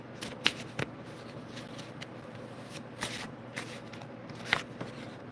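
Tarot cards are shuffled during a reading, producing close, soft riffling with irregular sharp snaps and slaps of the deck over a quiet room.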